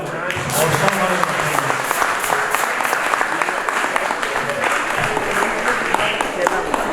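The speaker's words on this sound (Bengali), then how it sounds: "একটা জোরে হাততালি হয়ে যাক।" Hearty, continuous applause fills a hall at a centenary tribute concert for a composer, steady and close throughout, with a few voices mixed in among the crowd.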